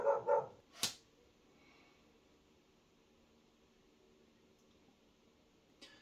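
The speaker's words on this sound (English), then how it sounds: "the dog barks." A dog barks outdoors, a few quick loud barks near the start followed by one more sharp bark, then mostly quiet background with a faint sound at the end.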